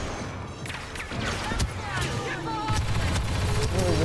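Game gunfire from Star Wars Battlefront 2: dense bursts of blaster shots and explosions crackle through a busy battle mix, loud and continuous, with a player's voice shouting over the fighting.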